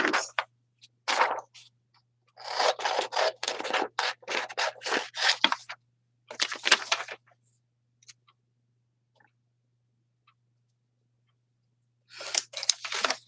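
Scissors snip through tape in several bursts of crisp, close cutting and rustling, separated by silent gaps, with a final short burst at the end.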